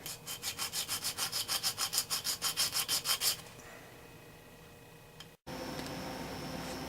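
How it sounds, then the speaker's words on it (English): A 16-inch radius sanding block rubbed over wood during a Washburn guitar repair, heard as about fifteen quick, even back-and-forth strokes, loud and close, then a stop and a low steady background hiss. "This is my 16 inch sanding block. And as I say, we'll just sand this down, put a radius on it here."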